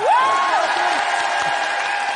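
A French television studio audience applauds a presenter's entrance in a steady, dense wash of clapping, with a rising whistle cutting through at the start.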